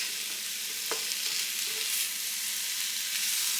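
Pre-packaged cole slaw mix sizzling in a pan over low to medium heat, a steady bright frying hiss with a soft stir clink, close and continuous with no talking.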